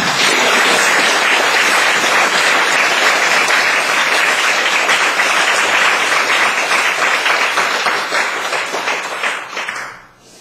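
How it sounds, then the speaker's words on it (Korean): A Korean church congregation at a Sunday worship service breaks into loud, sustained applause, a dense wash of clapping that holds for about nine seconds before fading out abruptly. "그 하나님 앞에 영광의 박수를 돌리고"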